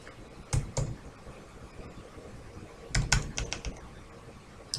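A computer keyboard is typed on in two short bursts of a few crisp key clicks each, separated by a quiet pause, close and moderately loud, with no talking.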